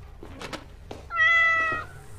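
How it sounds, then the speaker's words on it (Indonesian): A cat that has caught a mouse in an air duct gives a few soft sounds, then one clear, drawn-out meow nearby, with no other voices. "Austin kemudian dikejutkan dengan kucing yang berhasil menangkap seekor tikus di saluran udara"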